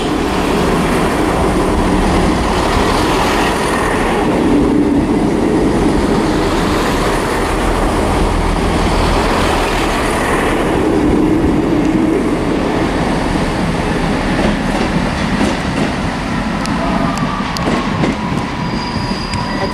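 A train rumbles past close by at Shrewsbury station, loud and continuous, with rattling wheels and a faint metallic squeal.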